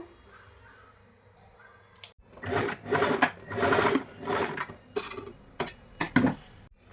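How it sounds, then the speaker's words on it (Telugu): A sewing machine stitches dots onto the front piece of a blouse, running in several bursts with short pauses between them and a faint background hum beforehand. "ఇప్పుడు ఫ్రంట్ పార్ట్లో ఒక పీస్ని తీసుకొని డాట్స్ స్టిచ్ చేసుకుందాం"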